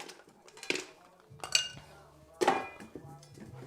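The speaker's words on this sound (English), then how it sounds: "let's go ahead and add some ice. We will stir for our dilution." A cocktail is stirred over ice: a few sharp clinks and rattles of ice against glass and metal come in short bursts, close up, with quiet gaps between them.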